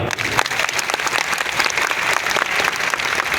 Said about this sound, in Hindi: और एक बार उनके सभी अपॉइंटमेंटों के लिए जोरदार तालियां